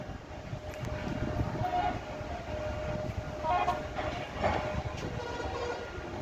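An electric bicycle's horn gives a steady, faint, sustained tone over a constant background hum, with no one talking.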